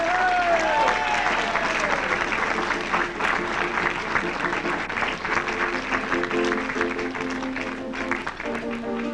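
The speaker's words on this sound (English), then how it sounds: "Let's have a nice round of applause for this uniting of families" Wedding guests applaud with dense, continuous clapping at a reception, while a voice and sustained musical tones sound beneath the crowd.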